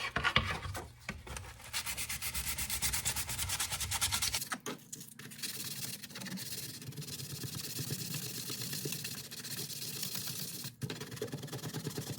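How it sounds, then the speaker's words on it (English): Hand sanding inside a part with 120 grit sandpaper, a steady, close rasping rub in long continuous strokes, with a change in pitch and texture partway through and a brief pause near the end. "Last thing is to sand inside here."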